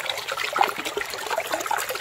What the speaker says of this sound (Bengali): বৃষ্টির জল এত জোরে বেরোচ্ছে বনের থেকে